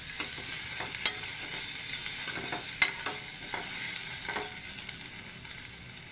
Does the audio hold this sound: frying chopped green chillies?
yes